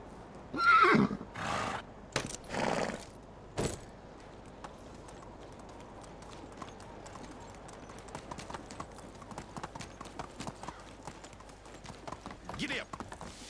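A horse in the game Medieval Dynasty whinnies in a few loud bursts near the start. Steady clip-clop hoofbeats follow as it trots on, with someone talking over parts of it.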